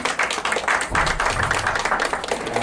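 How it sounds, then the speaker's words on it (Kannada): Applause opens a karaoke singing event's grand opening ceremony: dense, continuous clapping from a crowd, steady and fairly loud throughout with no pauses. "ಈ ಕಾರ್ಯಕ್ರಮನ ಶುಭಾರಂಭ ಮಾಡಿದ್ದೀವಿ ಜೋರಾದ ಚಪ್ಪಾಳೆಯ ಮೂಲಕ"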